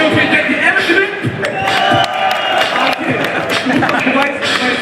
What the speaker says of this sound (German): Gib mal Applaus für ihn.